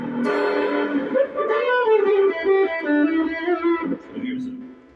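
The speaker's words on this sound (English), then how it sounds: "This is a TC Electronic Rusty Fuzz." Electric guitar played through a TC Electronic Rusty Fuzz pedal with reverb, sounding as sustained fuzzy notes and bends for several seconds, clear and close with no talking.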